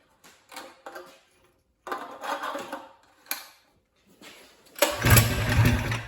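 Several short sputtering pull attempts on a Harbor Freight 4-stroke engine fitted to a bike, separated by pauses, before it catches and runs louder at the end.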